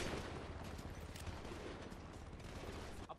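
Dense, continuous gunfire from a GTA video game shootout, with rapid overlapping bursts filling the whole stretch at a loud, steady level and a brief dip near the end.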